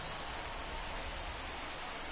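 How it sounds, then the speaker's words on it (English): Heavy rain falls at Citizens Bank Park in the baseball game MLB 24, a dense, steady hiss of downpour that stays loud and even throughout, with no voices over it. "This rain is not letting up."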